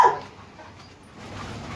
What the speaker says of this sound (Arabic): تعالى حبيبي هنا كده الكلب ده